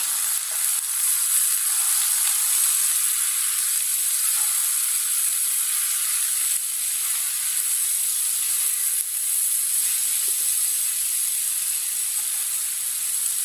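Okra fries in a pan with onion, tomato, turmeric and red chili powder as a masala bhindi, giving off a loud, continuous, even sizzle and hiss with no other sounds.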